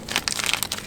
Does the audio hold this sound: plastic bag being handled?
yes